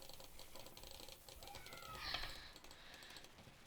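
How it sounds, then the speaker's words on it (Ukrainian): Rapid clicking while playing a bubble gum blowing game, a fast, quiet patter of clicks with a brief swelling tone partway through and no talking. "Кликаю, кликаю, кликаю, кликаю."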